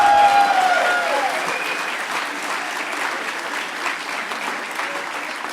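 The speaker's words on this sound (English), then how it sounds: "Give that guy a round of applause for a good troll." Audience applause at a hacker conference closing ceremony, a dense, steady clapping from a large crowd that swells at first and then holds evenly throughout.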